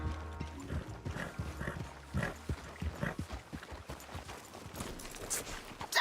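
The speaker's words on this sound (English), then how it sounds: "Damn horse acting up on me." A horse in the Red Dead Redemption video game clip-clops along with uneven hoof thuds amid game ambience and faint animal noises, moderately quiet and without speech.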